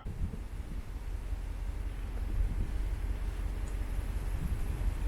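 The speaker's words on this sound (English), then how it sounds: "The ice on the trees as that wind is blowing." Wind gusts through ice-coated trees during an ice storm, making a steady, broad rushing roar that swells slightly midway and holds without a break.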